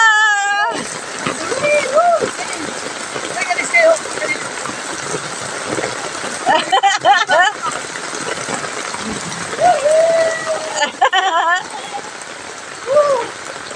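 Heavy typhoon rain from Typhoon Pepito pours down in a steady, dense hiss while children play in it, their shouts, laughter and voices rising over the downpour throughout.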